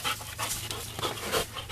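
A female dog panting steadily in quick, breathy bursts, close by and at moderate volume, with no talking over it.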